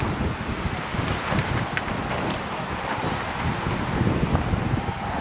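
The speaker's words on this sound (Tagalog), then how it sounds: "Sobrang hangin na, so malamang yung microphone natin." Strong wind at Abraham Lake buffeting the microphone in winter, a loud continuous roaring rumble with gusty fluctuations and faint rustling, no voices.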